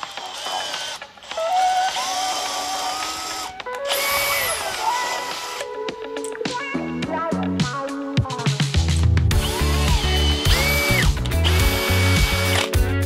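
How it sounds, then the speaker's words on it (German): Drill boring and countersinking holes in metal on a lathe in a home workshop, a loud continuous whine with shifting pitch, repeated starts and stops, and clattering mechanical bursts and ratcheting toward the end; no talking. "nochmal kurz alles ansenken."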